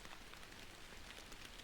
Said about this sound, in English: Watch the rain brush against the trees.